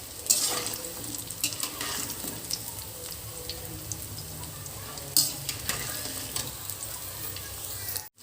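Prawn pakoras sizzle in hot frying oil with a steady, bright hiss and crackle, joined by occasional scrapes and clinks of a slotted spoon nearby.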